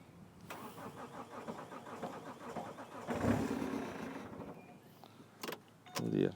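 A Vauxhall Antara 2.0 CDTi diesel with a crank-no-start fault cranks in a quick rhythmic churn for about three seconds, then catches into a rougher running rumble that settles; a few clicks and knocks follow near the end.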